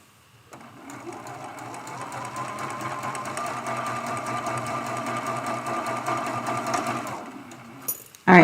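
A sewing machine stitches a Churn Dash quilt block steadily for about seven seconds, a fast even whirring close by with no talk, then stops with a couple of clicks at the end.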